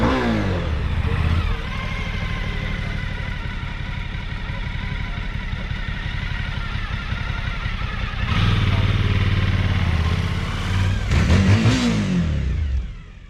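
A motorcycle engine runs steadily as the rider rolls backwards doing a fakie on concrete, with a loud continuous drone and a couple of surges of revving near the end.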